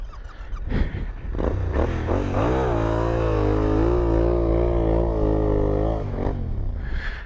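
A motorcycle engine strains and revs steadily while pulling out of mud, a loud sustained harmonic roar that holds for several seconds before easing off, with some scraping and clatter at the start.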